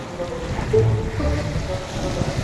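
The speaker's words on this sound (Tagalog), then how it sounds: "Malaki yung alon." Big waves wash against a shore in rough weather where small boats sit moored, a continuous loud rushing surge with swells that rise and fall, and no voices over it.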